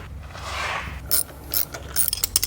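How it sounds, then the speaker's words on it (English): A socket wrench ratchets on a vehicle engine while fixing a starting problem: rapid clicking pawl bursts in short uneven runs, close up, with a brief mechanical whir before them and no talking. "Want to hand me that socket wrench?"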